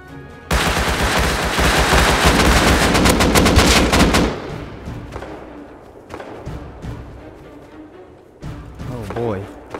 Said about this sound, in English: There's gunfire going on everywhere now.